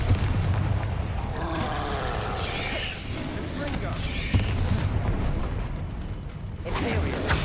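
The Confringo fire spell explodes in Hogwarts Legacy, a loud sustained blast and rumble of magical combat with voices shouting over the din.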